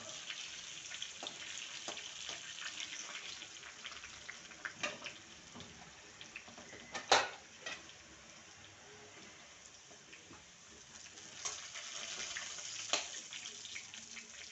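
Quiet, steady sizzling of garlic frying in a pan, with occasional clicks and one sharp clatter of a utensil midway.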